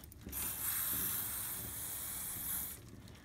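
A short burst of lubricant sprayed onto the rusty chain rings of a thrift-store mountain bike gives a steady close hiss that lasts a few seconds and then cuts off.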